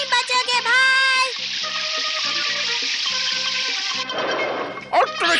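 In a Ninja Hattori cartoon, water is let go in a loud rushing, flushing burst lasting under a second near the end, set against steady cartoon music and sound effects.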